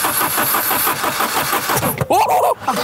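An old Volvo, unstarted for ten years, cranks over repeatedly with a rapid rhythmic churning of the starter, close and loud, with brief sputters and a few voices near the end.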